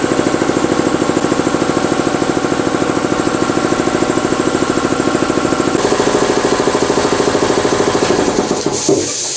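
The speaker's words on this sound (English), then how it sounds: "this is the compressor" Shop air compressor running steadily in a workshop, a loud close mechanical chugging with rapid even pulsing that holds throughout, changing slightly near the end.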